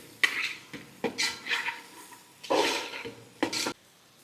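Spoon stirring cashews and tomatoes in a cooking pan, several short scraping strokes with gaps between, close and fairly quiet.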